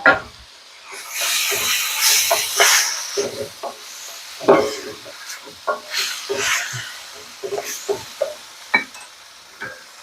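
Marinated beef with hoisin sauce sizzles in a pan, hissing in irregular bursts with stirring scrapes and clatter, close and without talk.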